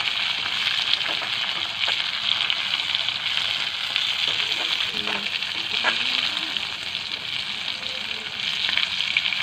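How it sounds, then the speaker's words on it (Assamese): Tomato pieces fry with onions in a pan, giving a steady, moderately loud sizzle and crackle with occasional stirring scrapes and no talking. "এতিয়া মই ইয়াতে বিলাহীকেইডোখৰ দি দিলোঁ, দি অকণমান দেৰি বিলাহীকেইডোখৰ ইয়াতে ভাজি"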